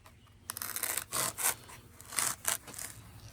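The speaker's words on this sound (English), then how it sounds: "we're gonna have to cut them lengthwise" Foam pool noodles are sliced lengthwise with a blade, making repeated rough, rasping strokes in short bursts, close and fairly loud with brief pauses between cuts.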